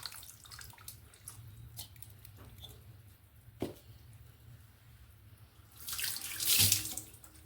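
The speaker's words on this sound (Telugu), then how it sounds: "ఇంకా కాసిన పోస్తున్నానండి చింతపండు నీళ్ళు." Tamarind water is poured into a cooking pot, a soft, continuous splashing stream that swells louder near the end, with a few small clinks and no talking.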